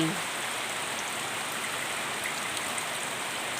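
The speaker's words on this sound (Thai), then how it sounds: "วันนี้ฝนตกค่ะ ฝนตก" Rain falls in a steady, dense hiss that stays even from start to finish, close and fairly loud, with no clear speech over it.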